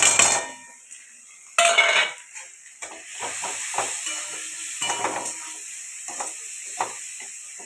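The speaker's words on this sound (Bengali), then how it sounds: "যতক্ষণ না তেল বেরোচ্ছে এরকম করে ভাজতেই থাকবো।" Rice fried with coriander, chilli, Kashmiri chilli and turmeric powder sizzles in a pan while a spoon stirs and scrapes against the metal, making repeated close clinks over a soft steady hiss.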